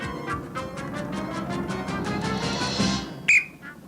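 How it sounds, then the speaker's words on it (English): Crowd noise and chatter build up on a 1983 TV game show, then a short, sharp whistle blast cuts in near the end, fairly faint against the background. "And there goes the whistle"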